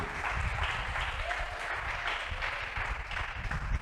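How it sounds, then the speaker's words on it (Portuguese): A church congregation applauding during a Bible Day worship service, a continuous, moderately loud patter of many hands clapping with no break. "Aplauda o nome dele"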